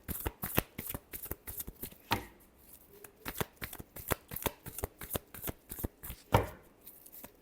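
Tarot cards are shuffled up close in rapid riffling bursts, a dense run of crisp slaps and flutters with a couple of brief pauses between passes.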